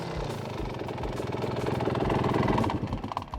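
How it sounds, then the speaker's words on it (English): A 500cc two-stroke motorcycle revs on a track, its engine a rough, pulsing drone that swells louder over the few seconds, heard fairly close with no talking. "Preston is trying to tame Kong, our 500cc 2-stroke monster"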